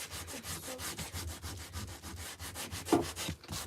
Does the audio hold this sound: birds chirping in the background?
no